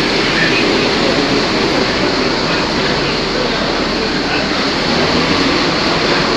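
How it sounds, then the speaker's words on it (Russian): Passenger train from Chelyabinsk arriving at Lazarevskaya station, heard as a loud, continuous broadband rumble and rolling roar that stays steady throughout, close by and with no clear voices. "А мы пойдем какой-нибудь поезд встретим. Скоро там должен прибыть."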